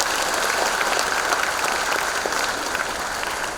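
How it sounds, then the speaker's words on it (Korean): Audience applause at a city citizens' report meeting, a steady, even roar of many hands clapping at once, moderately loud and unbroken for a few seconds. "박수 한번."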